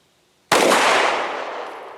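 A single sharp gunshot from a Kel Tec P-15 pistol at an outdoor range, a sudden loud crack after silence with a long fading echo, no voices.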